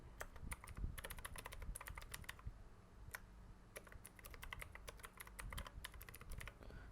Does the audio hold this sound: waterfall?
no